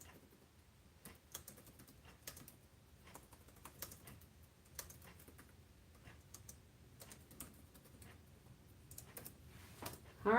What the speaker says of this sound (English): I'm trying to type this in here.